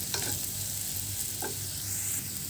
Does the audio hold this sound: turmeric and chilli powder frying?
yes